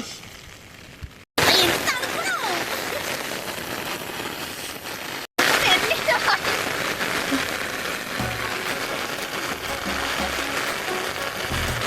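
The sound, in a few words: rain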